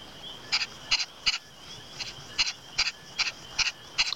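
Owls calling at night in a mountain walk scene of the Nintendogs+Cats game, a rhythmic series of about a dozen short paired hoots at a steady pace, clear and moderately loud over a quiet background.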